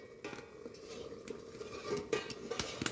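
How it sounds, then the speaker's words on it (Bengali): Meat being stirred slowly in a cooking pot at home, with quiet clinks and scrapes of a metal spoon against the pot coming in irregular taps, faint and close, without talk. "আস্তে আস্তে নাড়াব"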